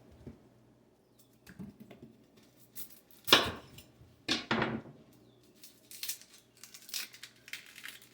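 A knife cutting a large onion on a board, quiet scattered crunches and a few louder chopping strokes separated by pauses, with faint background hum.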